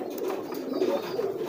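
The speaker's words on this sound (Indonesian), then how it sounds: "ini alhamdulillah merpati baru" A pigeon cooing in its nest box, close and fairly loud, low warbling coos running steadily through the moment with no talking.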